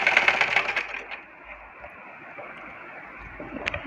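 A sewing machine stitches a circular plazo in a short, fast burst of close whirring for about a second, then drops to a faint quiet hum with a small tick near the end.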